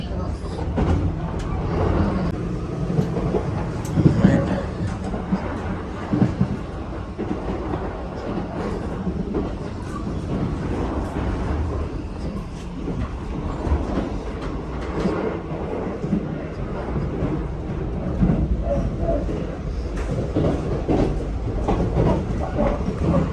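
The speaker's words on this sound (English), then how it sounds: "This is the bullet train that's going into Nippori." The Skyliner express train from Narita Airport to Tokyo rumbles steadily along the rails for a long stretch, with faint rhythmic clicks and a constant low roar.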